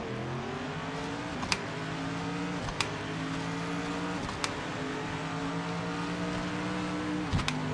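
A race car in the Project Motor Racing video game launches and accelerates, its engine note climbing steadily through gears with brief sharp shift clicks at regular intervals, loud and continuous from the cockpit.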